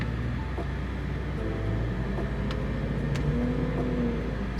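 A cheap, broken BMW M5 with a V10 engine idles and creeps forward into a garage as its clutch slips, a steady low engine drone with slight rises in pitch, close and continuous throughout.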